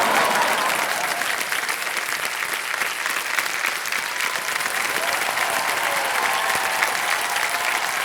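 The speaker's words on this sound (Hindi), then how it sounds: "जोरदार तालियां रंजू जी के लिए।" A studio audience on the KBC India quiz show claps for a contestant, a thick, even wash of loud applause sustained throughout with faint voices underneath.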